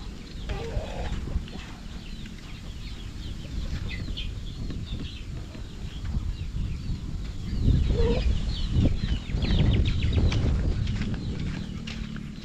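Pet ducks and chickens being fed outdoors, with a busy mix of clucks, quacks and pecking, scuffling movement, steady and close, growing louder partway through.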